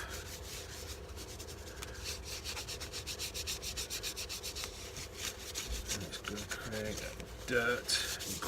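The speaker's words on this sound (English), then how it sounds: "And then take some kitchen paper, basically wipe it off." Kitchen paper wiped over a painted model Avengers 'A' emblem, giving steady close rubbing and scuffing strokes throughout, with a brief louder scrape near the end.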